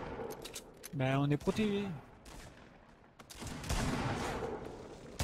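Gunfire in Fortnite: distant bursts of shots crackle through the match while players talk over it, the firing coming in scattered volleys rather than one clear sequence.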